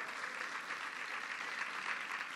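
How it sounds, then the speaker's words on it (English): Applause from an audience at a government bill-signing event for LGBTQ rights, a steady wash of clapping heard fairly faintly and at a distance for a couple of seconds. "So give him a round of applause."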